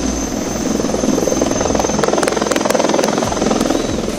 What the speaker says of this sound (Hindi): आसमान में हेलीकॉप्टर निगरानी कर रहे हैं।